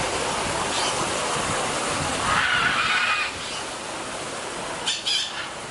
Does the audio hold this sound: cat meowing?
no